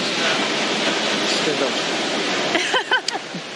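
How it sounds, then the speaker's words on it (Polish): Ocean waves break in a steady, continuous roar below a seaside cliff, loud and close throughout, with people briefly talking near the end. "Coś niesamowitego słyszeć uderzające fale w środku nocy, tuż za oknem."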